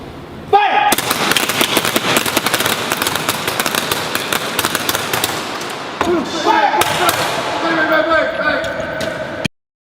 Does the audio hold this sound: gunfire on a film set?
yes